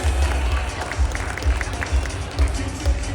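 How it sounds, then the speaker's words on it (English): A magic show audience at the Magic Castle in Hollywood applauds in a dense, steady wash, with soft low thumps recurring about twice a second beneath it. "would you give a big round of applause to all 3,"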